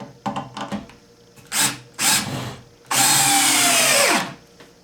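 A power drill whirs in several short bursts, then one long sustained run that winds down at the end, driving screws into a wooden stand for an ATV, close by with wood creaking between bursts.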